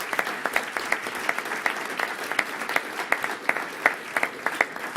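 Steady, moderately distant applause from an audience at an MLS special announcement at Allianz Field, continuous clapping with individual sharper claps standing out throughout.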